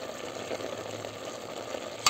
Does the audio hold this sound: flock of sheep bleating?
no